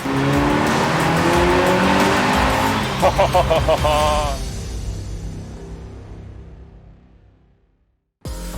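A Ferrari 328 GTS sports car accelerates hard through its gears in Singapore, its engine roaring loud and close for about four seconds before the note fades into the distance, followed by a brief renewed burst at the end.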